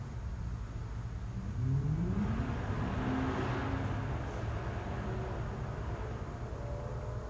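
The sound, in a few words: car passing outside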